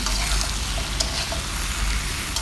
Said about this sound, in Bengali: এখন এটার সাথে ভালো করে নেড়ে চেড়ে মিশিয়ে নিচ্ছি